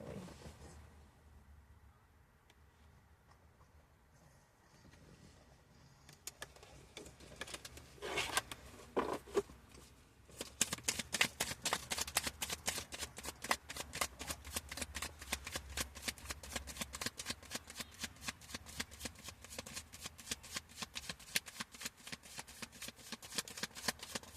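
Tarot cards for a reading are shuffled quietly at first, then in a long run of quick, crisp riffles and snaps that repeat steadily at close range, with no voice over them.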